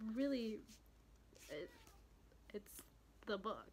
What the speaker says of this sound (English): if you can hear meowing, that's our cat